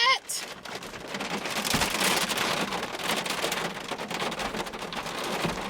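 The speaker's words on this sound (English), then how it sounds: "Y'all, that rain is heavy." Heavy rain from a thunderstorm pours down steadily in a dense, continuous roar, close and loud throughout with no pauses.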